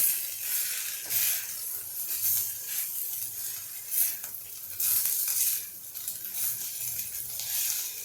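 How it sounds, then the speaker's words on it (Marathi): Coconut rice for a traditional Maharashtrian sweet being stirred and fried in a pan, a steady close sizzle broken by repeated scraping strokes of the spoon every second or so, with no talking. "आता पुन्हा एकदा याला मोकळं मोकळं परतते"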